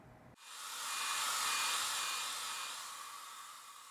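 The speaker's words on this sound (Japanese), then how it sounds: "ドライヤーで強制乾燥。" A hair dryer switches on and blows a steady, loud hissing stream of air to force-dry enamel paint wash on a Tamiya 1/24 Lancia Stratos Turbo Group 5 scale model, running alone.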